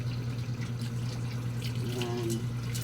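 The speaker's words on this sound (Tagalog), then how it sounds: "lagyan mo tubig mainit" Hot water pours steadily into a cooking pot with a continuous liquid rush over a low background hum, close and moderately loud.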